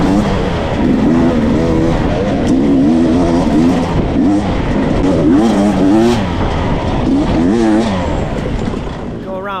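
An enduro dirt bike spins its rear wheel on takeoff at a race start, the engine revving loud and close, its pitch climbing and falling in rapid surges amid other bikes, while someone talks over it.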